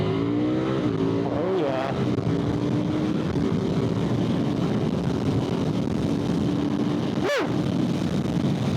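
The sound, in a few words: KTM 990 RCR motorcycle engine on a race track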